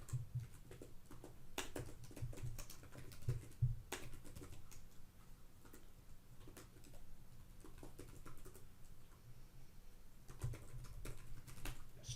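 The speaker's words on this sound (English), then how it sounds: "Just typing them in and pressing enter creates these keywords." Typing keywords on a computer keyboard, quiet scattered key clicks in short bursts with small pauses between them, close and soft, with no talk.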